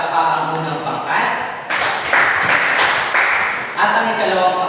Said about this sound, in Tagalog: bigyan nyo nga ng palakpak ang unang pangkat